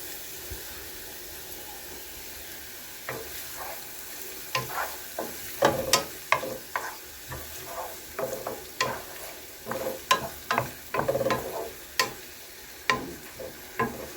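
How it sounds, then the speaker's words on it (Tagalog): Onions frying in a pan for spaghetti sauce, a soft sizzle broken by a run of sharp scraping stirs and clinks, irregular and close, with no talking. "Lagay na natin ang ating sibuyas."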